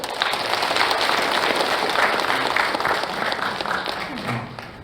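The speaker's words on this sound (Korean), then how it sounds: "큰 박수로 맞이해 주십시오." Dense applause from a crowd fills the room, steady and fairly loud for several seconds before beginning to taper off.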